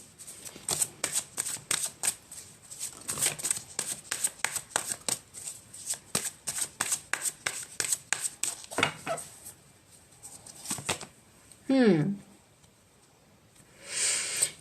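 Tarot cards are shuffled in a quick run of crisp riffling flicks, followed by a few slides and soft scrapes as cards are drawn, close and moderately loud with brief pauses.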